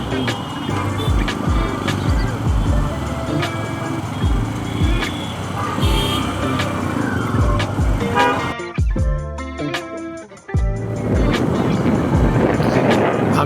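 Constant traffic noise from a car moving through Dhaka city streets: engines, road rumble and scattered horn toots, with a short muffled stretch before the busy din returns.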